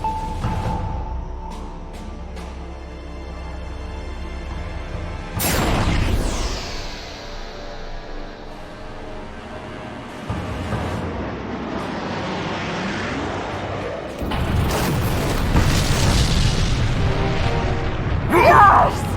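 Heavy explosions hit a mothership generator bank in a video game: a sharp boom partway through, then a longer, louder rumbling blast near the end, over a constant low drone with voices.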